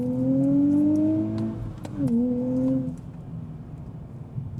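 Car accelerating on a highway pull, a rising engine whine climbing steadily in pitch, briefly dropping at a shift, then climbing again before fading, loud and close.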